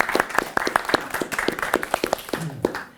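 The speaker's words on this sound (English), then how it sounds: "maybe we do a little round of applause" Small audience round of applause at a talk on ecocide law, sparse and distinct claps from a modest crowd, loud and close, fading toward the end.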